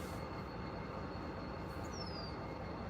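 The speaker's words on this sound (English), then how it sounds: "That train starts pulling out." A freight train sits on the tracks in Iowa, giving off a continuous broadband rumble with a faint high metallic squeal sliding briefly near the end, steady and enveloping with no talk.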